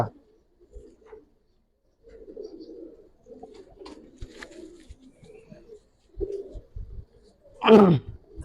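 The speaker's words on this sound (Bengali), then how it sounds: "কবুতর" Giribaz pigeons of a Palla line coo softly in a loft, a series of low, hoarse cooing phrases spread across the clip, ending in a louder, closer burst of calling.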